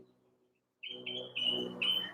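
A small bird chirps loudly nearby in a series of sharp, high tweets, building to a run of four or five bright calls over a faint low hum.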